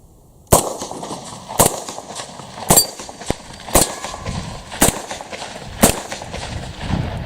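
Six sharp shots from an Alfa Proj carbine fired double action in quick succession at steel gongs and an old bowling ball, each loud crack evenly spaced about a second apart with faint ringing between them.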